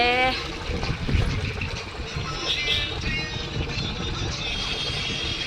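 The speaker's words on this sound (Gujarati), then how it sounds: "અહીંથી પાણી આવે, જો અહીંથી પાછળ નળ છે" Water runs from a tap through a lengthened hose pipe into a drum, a steady, close, splashing rush that continues evenly throughout, with a brief voice near the start.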